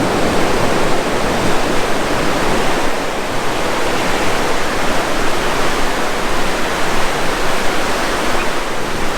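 Ocean surf washes up on a sandy beach in a loud, continuous hiss and roar with no break, close by and unaccompanied by voices.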